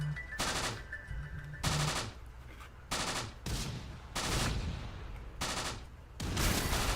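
Gunfire and explosions in the World War II combat game Close Combat: The Bloody First. Loud bursts of machine-gun fire and blasts come in rapid, repeated volleys with only brief gaps, dense and close, with no talk.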